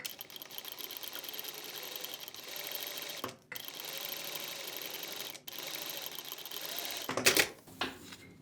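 A Juki industrial sewing machine stitches a straight seam along the edge of a cardboard strip guide, with a steady, loud mechanical whir running without a break for about seven seconds, briefly cut twice, before stopping with a few clunks.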